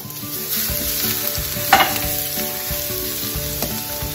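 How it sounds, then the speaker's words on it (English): Minced garlic sizzles in olive oil in a pan over medium heat, a loud close steady crackle with an occasional clink of a utensil and no voices. "we put in our olive oil, and then we put in the remaining garlic, the minced garlic that we set aside"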